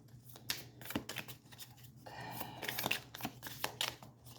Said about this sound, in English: I actually like the sound that the cards make.